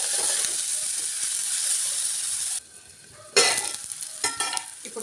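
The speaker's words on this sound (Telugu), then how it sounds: "ఇందులో పచ్చి వాసన పోయే వరకు వేయించుకోవాలండి" Grated onion and green chillies with cumin frying in hot oil, a loud steady sizzle and hiss that drops off briefly, then returns with stirring scrapes close by.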